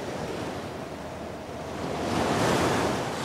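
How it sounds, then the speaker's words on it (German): Storm waves surge against a dike in a heavy storm surge, a loud continuous wash of roaring water and wind that swells stronger toward the end, with no voices. "Und immer wieder schlugen große Wellen mit Wucht auf den Deich."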